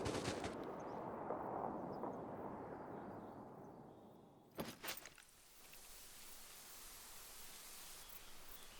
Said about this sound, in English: I got him with a 45-70 at 20 meters.